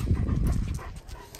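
A dog named Coda whimpers and cries close by, with soft panting and shuffling movement under a steady, noisy background and no talking.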